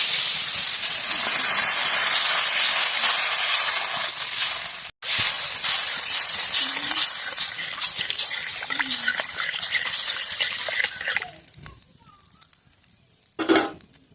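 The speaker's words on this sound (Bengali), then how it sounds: "এবার পরিমাণ মতো জল দিয়ে দেবো।" Water poured into a pan of sizzling vegetable curry bursts into a loud hissing, steaming gush that gradually fades to quieter simmering bubbles, with a clatter near the end.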